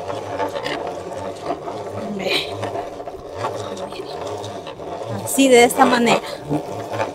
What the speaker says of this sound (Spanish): Llegado el momento de empezar a moler, y para moler hay que ver que esté bien finito